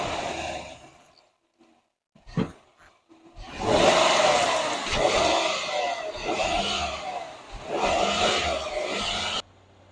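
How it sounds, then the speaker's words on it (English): A Chevrolet Silverado pickup's engine with its stock air filter sits quiet at first, then surges into a loud, broad roar that rises and falls in waves before cutting off near the end. "this is how the engine sounds before we install the K&N and with the stock air filter"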